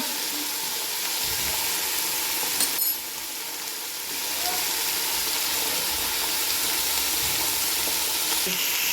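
Mixed vegetables for Hyderabadi veg dum biryani, including cauliflower, carrot, potato, beans, capsicum and green peas, frying with ginger garlic paste in a pan, making a loud, continuous close sizzle with a brief clink and no talking.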